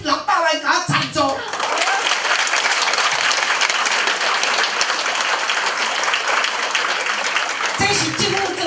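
An audience claps steadily and loudly at an opening ceremony for a home in Tainan, the applause swelling and holding for several seconds with a voice heard briefly at the start and end.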